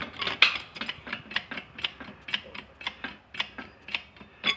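A hand ratchet clicks in a steady, repeated rhythm while tightening the bottom end of a Yamaha YZ85 engine, each short mechanical burst close and crisp with no talking.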